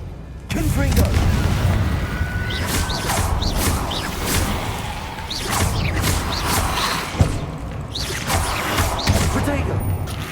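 Confringo blast spells go off in a Hogwarts Legacy battle as a run of booming bursts and swooshing whooshes over constant rumbling combat noise, with voices mixed in.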